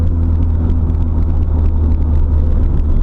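Road noise and a steady low drivetrain drone from a Nissan Silvia PS13 with an SR20DET engine while driving, a continuous loud rumble with a faint whine running through it and no talking.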